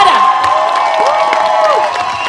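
Loud crowd applause and cheering at a village talent show, dense and continuous, with whoops and shouts rising over steady clapping throughout.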